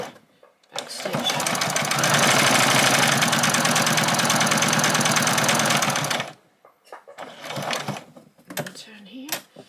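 A sewing machine runs in one steady, fast stitching burst of about five seconds while sewing fabric for a hair bow. A short pause follows, then a voice speaks amid light handling noises.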